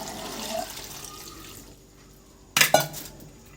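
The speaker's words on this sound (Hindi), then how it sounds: "एक मग पानी ऐड कर दूंगी।" A mug of water is poured into a pot of turnip and meat curry (shaljam gosht), a short, sudden splash near the end after quiet cooking sounds.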